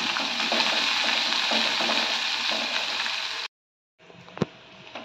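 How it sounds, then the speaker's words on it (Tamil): Finely chopped small onions sauté over low heat in a pan, a continuous gentle sizzle with faint stirring scrapes, cut by a brief silence and then resuming with a single sharp clink. "அடுப்பை சிம்மில் வச்சு நல்லா வதக்கிக்கலாம்."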